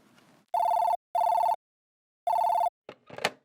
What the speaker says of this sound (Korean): 설레는 마음으로 한번 전화를 해봅시다